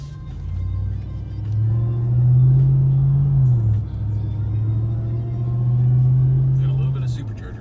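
Inside a Ram TRX pickup truck while driving, a steady low engine drone with a sustained tonal whine from the supercharger holds for several seconds, rising and dipping slightly in pitch.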